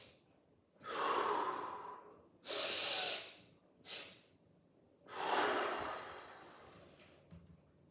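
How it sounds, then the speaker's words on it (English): Physiological sigh breathing by a person: a double inhale through the nose followed by a long, extended exhale through the mouth, heard as close, breathy airy bursts repeating over several seconds, with no speech during the breaths. "This type of breathing is double inhale through the nose and a long extended exhale through the mouth."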